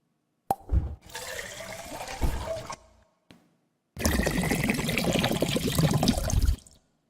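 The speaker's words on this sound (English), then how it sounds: "the water filling up in these pipes and this middle piece popping down" Water rushes and gurgles through pipes in two bursts separated by a short pause, the second louder and steadier, with a brief knock in between as a middle piece pops down.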